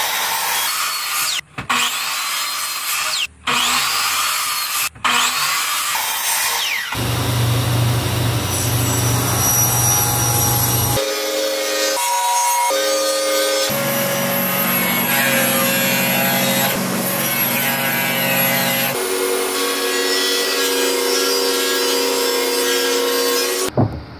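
Boards for a custom bathroom vanity are ripped to width on a power saw: loud whining blade runs, repeated in several passes with brief thumps and gaps between cuts, close by and without talking.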